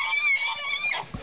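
A pig being chased by dogs lets out a loud, close, high-pitched squeal that holds for about a second before breaking off.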